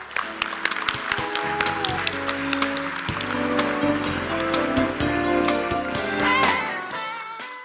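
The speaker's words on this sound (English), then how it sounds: "please join me in welcoming the Governor with a very warm round of applause" A large audience at the Jeju Forum for Peace and Prosperity opening ceremony applauds to welcome the Governor, a sustained, even patter of many hands with scattered sharper claps over soft background music.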